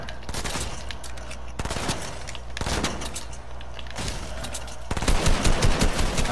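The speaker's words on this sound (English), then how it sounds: "I'm getting shot currently" Sustained automatic gunfire in Fortnite, including shots from a P90, fires in dense overlapping bursts, loud and near, intensifying toward the end with no voices.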